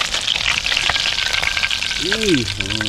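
Steady oily sizzle of fish frying in oil, with a brief voice-like tone rising and falling near the end.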